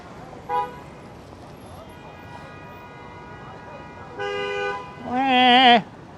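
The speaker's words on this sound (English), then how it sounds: "if you honk your horn enough" Car horns in Midtown New York City traffic during the Christmas season: a short toot, then a longer blast and a loud sustained honk near the end, over a busy street background.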